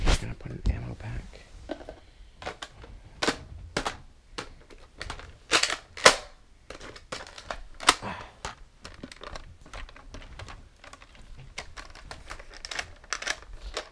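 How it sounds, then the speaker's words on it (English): An ammo pack is loaded into a Nerf Retaliator blaster, making a close run of sharp plastic clicks, snaps and rattles at an irregular pace, with soft, hushed voices underneath. "got the Retaliator, and we're just gonna put an ammo pack."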